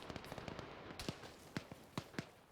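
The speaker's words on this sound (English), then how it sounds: "That's AK fire to our south." Distant AK rifle gunfire in a military shooter video game, heard as a scattered string of faint, sharp cracks from somewhere off to the south.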